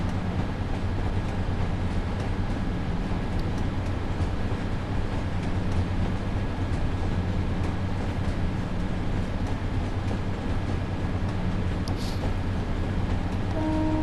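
A Class 142 Pacer train running in Train Sim World 4 between Blackpool North and Preston, a steady loud engine drone and rail rumble throughout with faint clicking.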